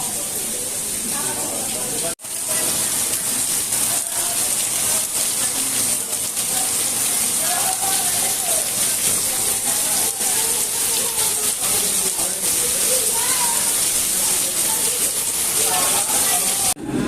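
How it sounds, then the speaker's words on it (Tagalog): Heavy rain pours down at Morong, Bataan in a dense, constant roaring hiss that barely changes throughout, with a voice speaking beneath it. "Ito, sobrang lakas ng ulan."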